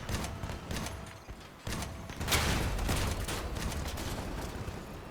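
Mortar and heavy weapon fire during a vehicle battle in the game Crossout, with dense rumbling blasts and crackling impacts layered over continuous engine and combat noise, loud and sustained throughout.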